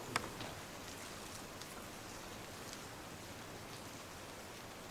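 Steady, even rain hiss fills the whole stretch, with a brief sharp tap near the start; no voices.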